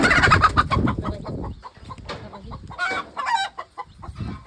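Hens cluck nearby in quick, uneven bursts, with a few louder squawks from an injured hen, and no speech over them.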